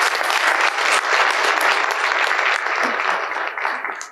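Audience applause after a talk at a conference session on shelter data, a dense, steady patter of many hands clapping that fades toward the end.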